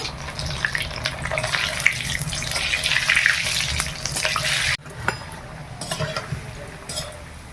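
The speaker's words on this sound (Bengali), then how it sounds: "এইবার আমি আলুটা ভেজে নেব।" Boiled, salted potatoes fry in hot oil in a home kitchen: a loud, steady close sizzle with constant hiss and a brief dip partway through before the frying carries on slightly softer, no talking.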